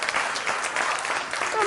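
Audience applause for Tar at a church talk, a dense, steady spread of hand clapping filling the whole short stretch at even loudness, with voices mixed in underneath.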